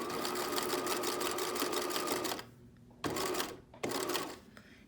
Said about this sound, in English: I'm just going to do a bar tack